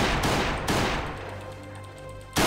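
A shotgun fires in the survival video game Last Day on Earth: three loud, sharp blasts, the first two close together, then a longer pause before the third, each followed by a decaying rumble.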